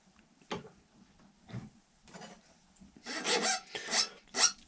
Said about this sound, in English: I can see my file is scraping. That is very hard.